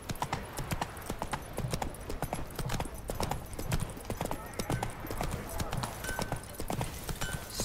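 Hooves of Roach, the horse in The Witcher 3, trot in a brisk, even clip-clop for several seconds, loud and close, with faint talking underneath.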